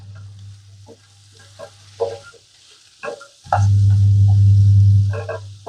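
Drumstick pieces in tomato curry stirred in a pan, scraping spoon strokes over a low steady sizzle that swells into a loud continuous fry midway, close up, no talking.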